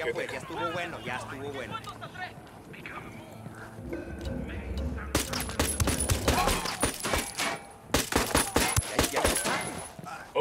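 Rapid gunfire from the video game Ghost Recon Wildlands, a dense burst of close shots starting midway and continuing in volleys, following voices talking over a low game soundtrack.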